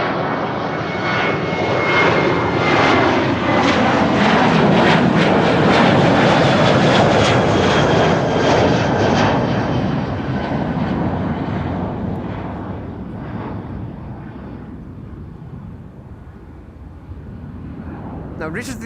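A TUI jet airliner's engines roar loudly and steadily at Amsterdam Schiphol, the broad rumble swelling and then slowly fading over nearly twenty seconds.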